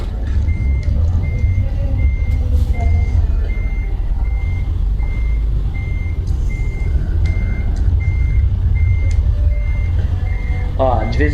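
A truck in American Truck Simulator backs up, its reversing alarm beeping in an even, repeated rhythm over a loud, steady engine rumble, with a voice talking throughout.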